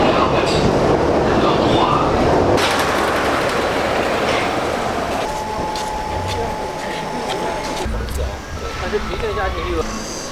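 A Shanghai Metro Line 12 train rumbles steadily, with a brief tonal whine midway as it runs, and voices murmur faintly beneath the continuous noise.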